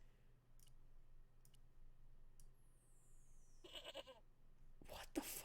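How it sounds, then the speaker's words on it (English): A goat in the video game Broken Sword gives a couple of short, quiet bleats near the end, among faint clicks over a low background hum. "Why is it making a goat sound?"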